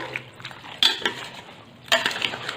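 Undhiyu vegetables, including cabbage and cauliflower, being stirred with salt in a pot for a Kathiyawadi-style dish: two sharp scraping clatters of a spoon against the pot between softer stirring rustles, close and clear with no talking.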